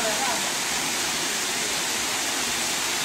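A steady, full roar of falling water from a waterfall in Cabrera, Dominican Republic, loud and unbroken throughout.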